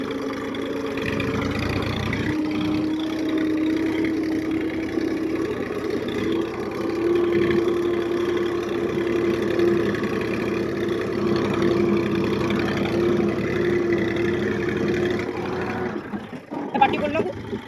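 A tractor engine drones steadily at a medium pitch throughout, close and continuous, with voices talking over it and a brief rattle near the end.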